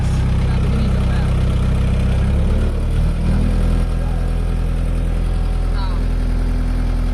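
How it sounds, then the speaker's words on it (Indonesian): A bulldozer engine runs at a steady low rumble as the machine drives forward in F mode, with a brief shift in tone partway through, loud and close under someone speaking. "yang mana dia akan bulldozernya nanti akan maju seiring kita gas"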